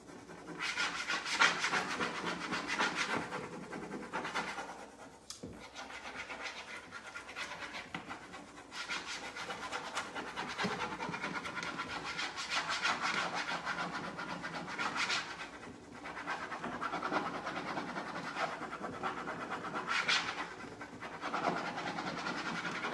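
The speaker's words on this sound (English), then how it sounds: "I'm just gonna stick it on and kind of apply it right over my paint and burnish it" A transfer is burnished over fresh paint on a wooden jewelry box with steady, faint scratchy rubbing strokes that continue without pause and with no voices.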